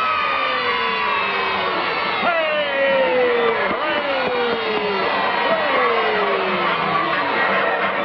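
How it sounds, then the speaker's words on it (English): Children's crowd shouting and cheering for the Howdy Doody puppet show, a loud continuous din of young voices with rising whoops and cries throughout. "All the Howdy Doody supporters, cheer and raise your right arm"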